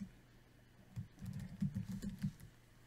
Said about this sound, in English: you'll see a little bit more as I start typing